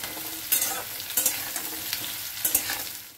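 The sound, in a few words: stirring drumstick stalks frying in a pan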